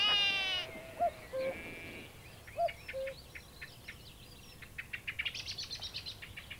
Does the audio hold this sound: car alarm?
no